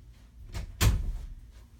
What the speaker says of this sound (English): I'm still taping, so I'm going to shut the door.